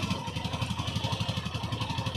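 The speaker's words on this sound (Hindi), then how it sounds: "बाइक प्रॉपर स्टार्ट है।" Hero Xtreme 160R motorcycle idling nearby after a battery disconnection, its engine putting out a steady, even, rapid thumping pulse with a slight mechanical clatter, no talking.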